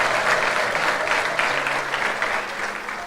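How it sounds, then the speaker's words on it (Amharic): A church congregation applauds a pastor's sermon, with steady, dense clapping that holds for about three seconds and fades slightly at the end, with no speech over it. "ለዚህ ጌታ ከፍ ያለ እልልታና ጭብጨባ እንድትሰጡ ጠይቃለሁ።"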